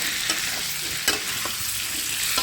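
Potatoes and spices fry in a pan for a vegetarian potato curry, with a continuous sizzle and a few distinct scraping stirs, up close and with no talking.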